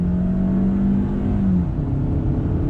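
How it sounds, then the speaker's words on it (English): A 2019 Hyundai Santa Fe with an 8-speed transmission accelerating, heard from inside as a loud, steady engine drone with a rising tone that shifts downward partway through, with no talking. "let me go ahead and get on the throttle, that 8-speed"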